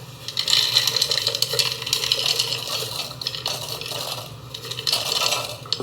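Wood pellets are sprinkled into a pellet stove, making a busy, uneven rattle of small hard pieces pattering and clinking against metal, fairly loud and continuous, with no talk over it.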